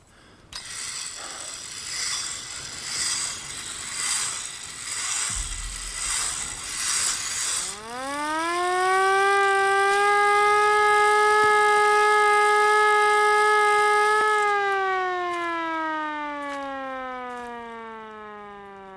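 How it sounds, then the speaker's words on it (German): Siren in the video game Ad Infinitum: a grinding, ratcheting mechanical windup pulses for several seconds, then a loud wailing tone rises, holds steady and slowly falls away, heard alone without talk. "Ich will wissen, was die Sirene macht"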